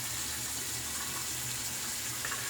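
Tap water running steadily over a shaving brush being rinsed at a sink, a faint continuous splashing hiss with no break.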